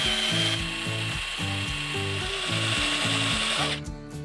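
A drill bores into particleboard with a steady mechanical whir. A rhythmic stepped ratcheting pattern repeats through about four seconds, close and alone, then tapers at the end.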